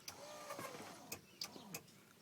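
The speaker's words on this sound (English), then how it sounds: "when the motor reaches its peak, which sounds like this." The convertible top motor of a Chrysler LeBaron strains as it reaches its peak. A faint mechanical whir is broken by several sharp clicks and ticks at irregular intervals, all quiet and close.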